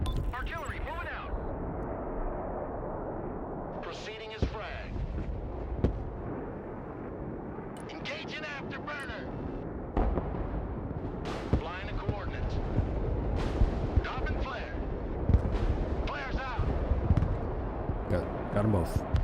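Artillery fire in an online war video game: scattered booming blasts and rumbling impacts under nearly continuous voice chat and battle ambience, with occasional sharper reports.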